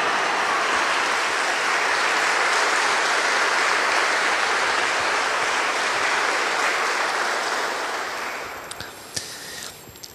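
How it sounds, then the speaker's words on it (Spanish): Congregation applauding loudly inside a parish church during a Mass for the feast of Saint Joseph, a dense sustained wash of clapping that fades toward the end, with a few sharper claps standing out as it dies down. "Fuerte los aplausos para nuestro patrono San José"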